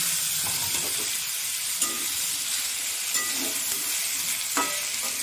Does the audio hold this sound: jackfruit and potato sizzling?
yes